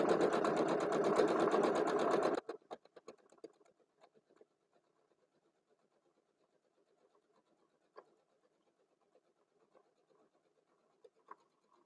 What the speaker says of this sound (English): I'm going to just top stitch the edges to give them a little bit of strength here.